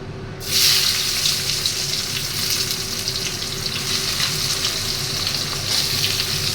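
Onions hit hot oil already seasoned with a dry red chilli and a bay leaf, setting off a sudden loud sizzle that holds as a steady, close crackling hiss.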